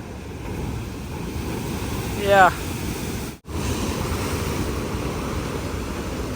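Sea waves surge and crash against the rocks below Bekal Fort, a continuous loud wash of surf mixed with heavy wind buffeting the microphone, with one brief dropout partway through.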